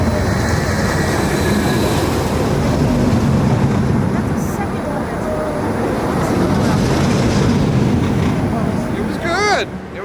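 A loud roller coaster train rumbles past steadily with heavy roaring noise, ending in a squealing brake whine, while people talk and shout faintly in the background.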